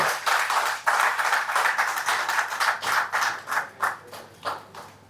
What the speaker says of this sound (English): Please give him a round of applause as you